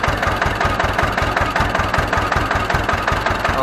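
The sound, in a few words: Ursus C 325 tractor engine running in field gear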